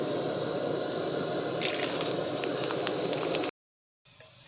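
Whole spices, namely dried red chillies, bay leaves, cumin seeds and whole garam masala, hiss steadily in hot oil in a kadai. The sound is close and even, cuts out abruptly near the end, then resumes more quietly.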